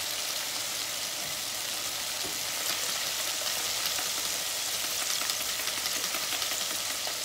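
Shrimp deep frying in a basket of hot oil at 400 degrees, a steady loud sizzle and bubbling hiss that stays constant throughout, with no talking.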